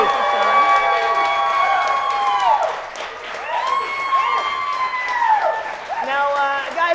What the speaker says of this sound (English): big round of applause for Mellaney Dahl from